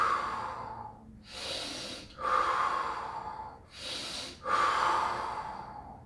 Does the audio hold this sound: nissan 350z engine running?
no